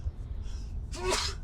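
A single sharp sneeze, close and fairly loud, preceded by a quick intake of breath over low road rumble inside a car in traffic.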